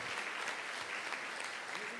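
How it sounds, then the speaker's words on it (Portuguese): A church congregation applauding at an anniversary celebration, with dense, even clapping from many hands heard at a moderate distance and voices mixed in among the crowd. "Vamos aplaudir o Senhor pela vida da Júlia."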